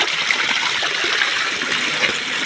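River water rushes in a steady, loud stream around someone bathing in the river, forming a dense, continuous wash of flowing sound with no clear pauses.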